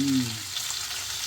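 Paneer fries in ghee in a pan with a soft, steady sizzle, close and fairly loud, briefly over a low tonal hum at the start.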